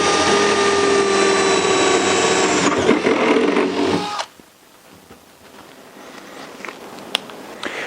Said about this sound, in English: I'm going to angle it the best that I can using the ceiling downward to drill through